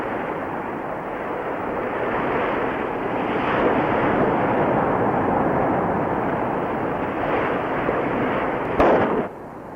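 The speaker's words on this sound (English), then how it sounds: "When these people make a firecracker, they don't screw around." Big firecrackers explode by a river, heard as a sustained, roaring blast of noise that swells and rolls on for several seconds, ending with one sharp crack before the sound drops away.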